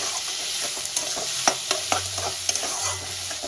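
Chopped onions frying in oil in a pan, a continuous soft sizzle broken by sharp spatula scrapes and taps at irregular intervals, near and moderate in level, with no voices.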